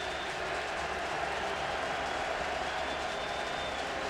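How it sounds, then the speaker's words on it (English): Crowd noise at a CFL football stadium in Saskatchewan, a broad steady roar from a large crowd, distant and faint, with no clear voices on top. "Now we're going to hear the Saskatchewan crowd."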